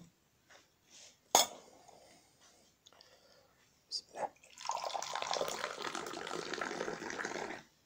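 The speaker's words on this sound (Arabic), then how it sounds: "هي راه غير التسميع ديال الكاس" A single sharp clink of a glass rings out near, followed by several quieter taps and then a steady stream of liquid pouring, with a voice whispering faintly in the background.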